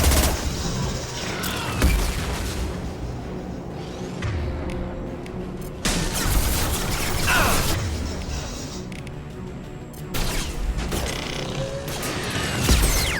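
Heavy gunfire and crashing impacts in the Mass Effect 2 video game, with dense bursts of shots and mechanical clatter running continuously and loudly throughout, swelling at several points.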